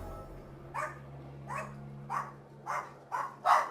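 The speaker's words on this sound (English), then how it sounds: "Sorry that they're barking, guys" Dogs in a Vampyr game scene give five separate barks, roughly evenly spaced and growing louder toward the end, over a low steady hum.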